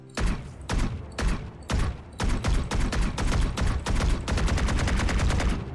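In the video game Valorant, the RGX 11Z Pro Vandal rifle fires several short bursts and single shots, then a longer sustained volley of rapid, punchy gunshots, loud and close, with no voice over it.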